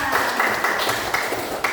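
A classroom of students applauds briefly, a short patter of clapping with a few sharper claps standing out.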